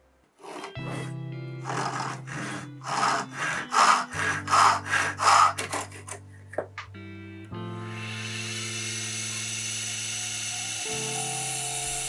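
A wooden pencil blank being cut to length on a pillar drill set up as a small vertical lathe, with a steady machine whine broken by a run of rhythmic cutting bursts, then a continuous higher grinding tone, close and loud.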